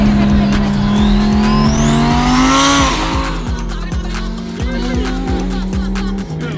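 A rebuilt crashed supercar revs hard with a loud climbing engine note, then pulls away with tire squeal, gear changes and a sustained roar close by at a cars-and-coffee gathering, a faint voice underneath.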